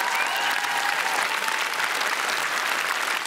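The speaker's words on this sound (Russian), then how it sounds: "Под ваши аплодисменты. Давайте." A comedy club audience bursts into dense, sustained applause, a loud wash of many hands clapping at once with no talk over it.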